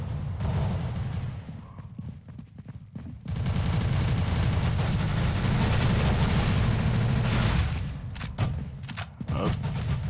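Sustained, loud gunfire in a Counter-Strike: Global Offensive Arms Race match, dense continuous volleys with a short pause near the start and choppier bursts toward the end.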